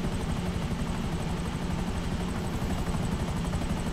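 An Akula helicopter in a video game, with Russian paint, flies with a loud, steady rotor thump and turbine whine, continuous and close, no voices over it.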